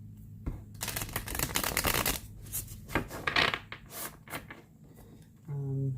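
Cards are riffled and shuffled in several quick crackling bursts, close by, with soft handling taps and a faint voice at the very end.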